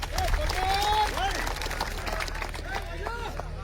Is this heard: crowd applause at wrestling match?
yes